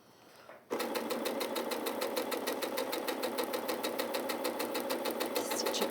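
A sewing machine stitches a patchwork block in a steady, fast mechanical chatter that starts abruptly after a quiet moment and runs evenly to the end, close and fairly loud.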